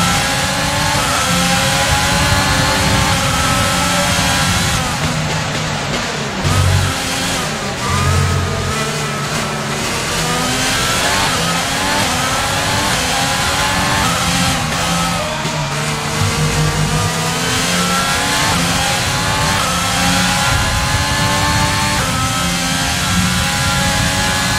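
A McLaren Formula 1 car engine in a racing video game revs loudly and continuously, its high whine rising and falling through gear changes with no pauses.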